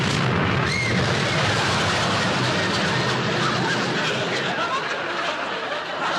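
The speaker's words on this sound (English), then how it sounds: "Tommy, I thought you said you defused that bomb." A bomb blast sound effect for a TV comedy, with a loud, dense, sustained roar of rumbling noise that fills the whole clip and fades slightly at the end.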